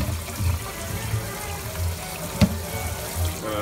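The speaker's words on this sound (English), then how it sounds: "it's important to wash your hands so you don't die." Tap water runs into a sink while hands are washed with soap, a steady close splashing flow with uneven dips and one sharp clack midway; no talking.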